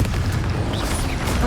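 A Confringo blasting spell goes off in Hogwarts Legacy, a dense rumbling boom with crackling mechanical debris that fills the whole short moment at steady, loud level.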